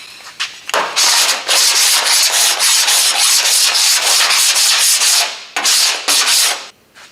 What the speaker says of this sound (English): So by using the combination of a spoon hammer, slap hammer, and a metal file, we eliminated, we removed, and the high spot is now gone completely.